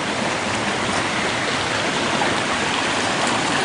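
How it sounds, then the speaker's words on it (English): A low-running creek with wild watercress along its banks flows steadily and close by, a dense, even rushing and burbling that holds its level throughout with no voices. "Looking down on the creek, it's running a little bit low right now"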